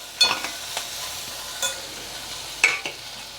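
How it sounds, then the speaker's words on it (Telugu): Beans and onion frying in a pan, a soft steady sizzle broken by a few sharp scraping stirs of a utensil, close and alone without talk. "ఇదిగోండి ఈలోపు బీన్స్ కూడా వేగిపోయింది, ఉల్లిపాయ కూడా వేగిపోయింది"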